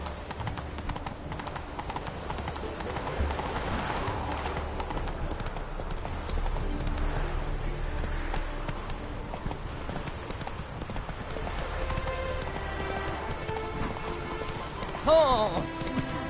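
Horse galloping in The Witcher 3: Wild Hunt on PS4, rhythmic clip-clop hooves drumming steadily amid game ambience and music, with a louder sound near the end.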